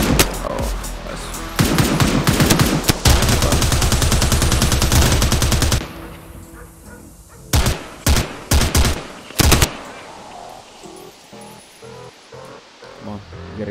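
Rapid automatic gunfire from the shooter game Army of Two, long loud sustained bursts that break into short separated shots and then fade to quieter ambience.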